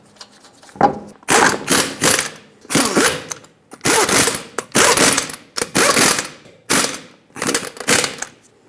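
A ratcheting wrench tightens lug nuts on a Subaru Crosstrek wheel, sharp rapid clicking bursts in about a dozen short, close strokes separated by brief pauses.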